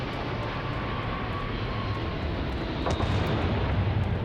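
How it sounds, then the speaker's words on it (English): A spaceship's rear engine stack roars steadily during takeoff in the Starfield video game, a dense, loud, continuous rumble that swells slightly near the end, with no talking. "our engine stack in the back, and this is gonna look oh so good taking off"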